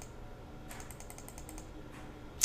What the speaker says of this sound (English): So I'm just going to start clicking fast.